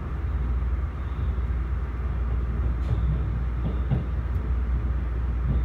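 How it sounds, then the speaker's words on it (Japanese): A 255 series limited express train rolls steadily into a platform with a low, continuous rumble, and a few faint clanks and squeals rise briefly above the drone. "到着後に幕張方面へ回送するので、上りの7番線に列車が入ります。"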